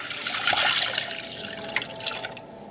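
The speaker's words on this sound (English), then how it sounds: "Pour your broth in there." Broth pours into a saucepan in a home kitchen, a steady splashing trickle lasting a few seconds, close and fairly loud, with no talking.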